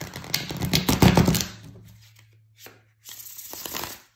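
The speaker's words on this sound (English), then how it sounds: "let's shuffle these cards one more time" Tarot cards riffle and slap together in a brisk, close flurry of crisp paper patter, then a few softer taps and a final quick shuffle, with no talking.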